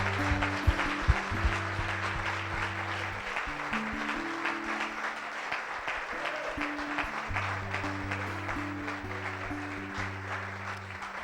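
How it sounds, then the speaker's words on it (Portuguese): Church congregation applauding: steady, dense clapping from a crowd throughout, with sustained organ or keyboard chords playing underneath and a few voices faintly mixed in. "Vamos aplaudir a Jesus."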